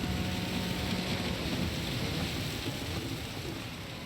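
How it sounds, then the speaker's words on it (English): Rain falls in Gran Turismo 7 during a Le Mans world touring car race: a dense, steady hiss of spray and downpour that fills the whole clip, with a low engine drone underneath and a slight fade at the end. "the rain's easing off now"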